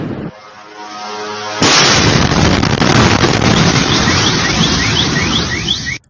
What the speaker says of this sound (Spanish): Una potente explosión sacude el centro de Tel Aviv.